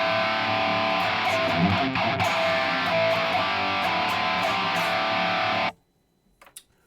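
Electric guitar played dry through Bias FX2 amp modelling software with delay and reverb switched off, a sustained, distorted chord ringing steadily and loudly for several seconds before cutting off abruptly into near silence.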